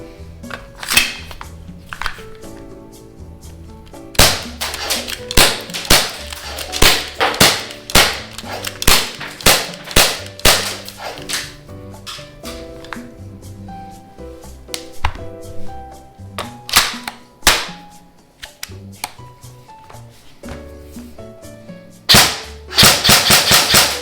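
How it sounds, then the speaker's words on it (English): Airsoft guns, including a Krytac rifle, firing outdoors in bursts and single shots, sharp loud cracks with repeated rapid strings and pauses between volleys. "let's go shoot some guns."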